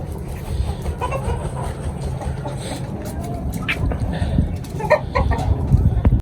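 Ayam Cemani hens kept in a rooftop poultry setup in Faisalabad cluck softly and intermittently against a steady background rumble, with scattered brief rustles and taps.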